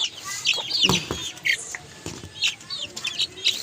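Chickens cluck and squawk repeatedly in short bursts, with some wing flapping, fairly close by.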